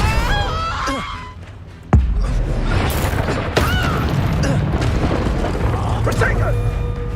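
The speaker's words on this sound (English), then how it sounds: "Confringo!" Confringo fire spell in the Hogwarts Legacy video game, a sudden booming explosion near two seconds into rapid spellcasting combat, with a voice shouting and further bursts, whooshes and clatter throughout.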